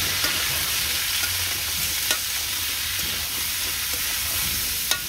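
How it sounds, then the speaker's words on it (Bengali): Bottle gourd frying in a pan, stirred: a steady close hiss of sizzling oil throughout, with a few sharp scrapes and taps of the utensil against the pan. "যে লাউ ভাজি হয়ে গেছে।"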